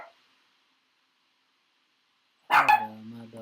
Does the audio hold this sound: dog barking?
yes